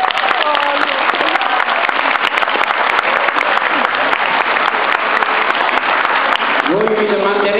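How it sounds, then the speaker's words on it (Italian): A hall full of children and adults at a Caritas youth gathering in Cormòns applauds a Monsignor with brisk, sustained clapping, while a voice speaks over it near the end. "Un applauso a Monsignore"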